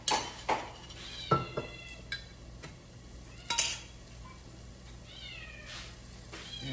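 A cat meows several times in a kitchen, short rising and falling cries spaced apart, amid clinks of dishes, pots and cutlery close by.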